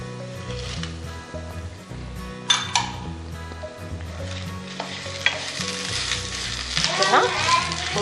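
Dried Byadagi and Guntur chillies roasting in a hot pan, with a steady sizzle, scraping stirs and occasional clinks of a utensil against the metal, fairly close.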